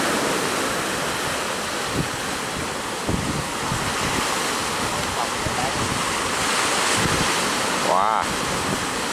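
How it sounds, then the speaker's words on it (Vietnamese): A ship at sea in a storm is surrounded by rough waves and strong wind, a continuous loud roar of surf and wind buffeting the microphone, with a brief whistling tone near the end. "đang đi giờ trời sóng trời gió khá là lớn luôn nha"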